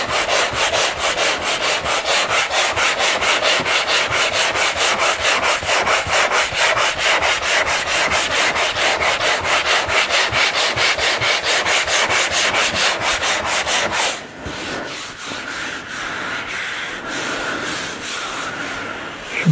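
Rapid rhythmic back-and-forth hand sanding with coarse 80 grit sandpaper, loud and close for about fourteen seconds, then softer, slower rubbing strokes.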